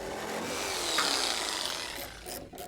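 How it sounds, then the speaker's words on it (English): A jigsaw cuts through an early Ford Bronco fender, giving a steady, close rasping buzz of the blade through the panel throughout. "Now cut out the fender with a jigsaw."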